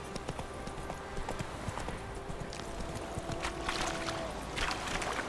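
Horse hooves gallop in The Witcher 3 game, a steady rapid clip-clop rhythm that runs throughout over a constant outdoor ambience, with a brief whinny-like sound.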